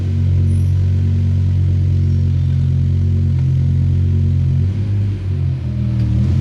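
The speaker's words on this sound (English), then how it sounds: "On the dash, we're in drive, neutral, and let's see if the car actually moves." A BMW M6 with a freshly repaired gearbox sits in drive and creeps forward, its engine a loud, close, low idle rumble that holds steady and shifts slightly in pitch near the end.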